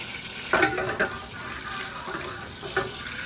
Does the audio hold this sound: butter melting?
yes